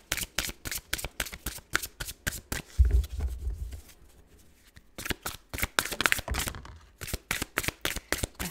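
Tarot cards are shuffled by hand in quick riffling bursts, a steady run of crisp flutters that pauses briefly, then resumes, close and clear with no talking.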